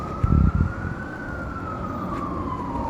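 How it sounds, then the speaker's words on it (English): An ambulance siren wails in the street, one long steady tone that rises and falls slowly over constant traffic rumble, after a brief burst of louder noise at the start. "Look, all these ambulances. You hear that? All these ambulances."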